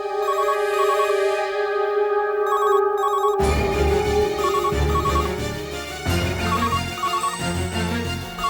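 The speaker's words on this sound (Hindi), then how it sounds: "तू फोन क्यों नहीं उठा रही?" Telephone ringing indoors in a TV drama scene, a repeated electronic ring pattern that continues as music swells in underneath, loud and close.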